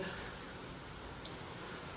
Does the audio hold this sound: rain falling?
yes